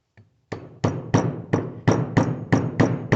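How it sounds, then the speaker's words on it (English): Hammer blows driving a seal into place on a Case 580C backhoe, about nine sharp metallic strikes in a steady rhythm, close and loud with no talk. "pound it down with a hammer."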